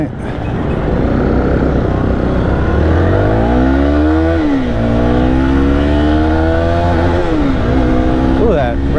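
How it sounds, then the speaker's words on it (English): Zontes X310 300cc motorcycle revving hard, engine pitch climbing steadily until the rev limiter cuts in with abrupt drops, then rising again; loud and close with a voice talking over it. "that rev limiter kicks in hard"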